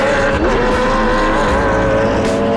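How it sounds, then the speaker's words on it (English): A Ferrari race car spins out at Pirelli GranTurismo Championship racing at Calder Park, its engine roaring loud and steady with tire squeal woven through the continuous din. "overstepping the limit and spinning the Ferrari"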